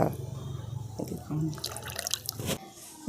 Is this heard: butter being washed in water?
yes